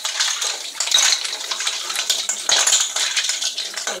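Hands being washed in water, splashing and sloshing with light clinking in a steady, close wet wash, no talk.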